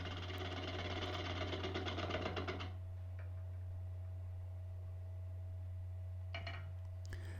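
A wood lathe roughs a natural-edge elm bowl with a large bowl gouge, making a rhythmic chattering cut for under three seconds over a steady motor hum. The cutting then stops and the hum continues alone, with a few faint taps.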